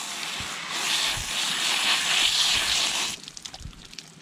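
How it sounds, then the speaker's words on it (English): Running water hisses and splashes steadily for about three seconds as butchered rabbit meat is rinsed, then stops, leaving a few drips and soft handling sounds. "From here, I'm rinsing."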